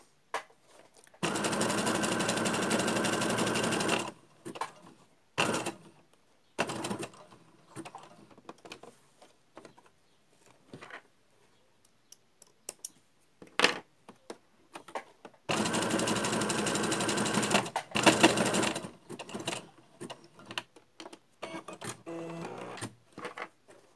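A sewing machine stitches a felt mask in two long, steady runs, close and loud, with clicks and handling noises between runs.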